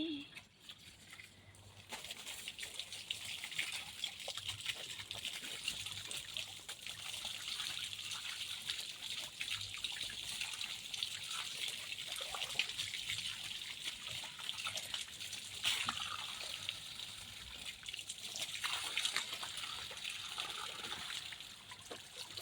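Faint, steady pouring and splashing water runs on and on as someone bathes and shampoos their hair, with voices talking softly underneath.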